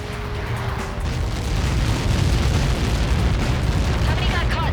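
Deep, sustained rumbling blast from a missile impact in the jet combat game Ace Combat 7, a broad roaring wash that swells after the first second and stays loud throughout.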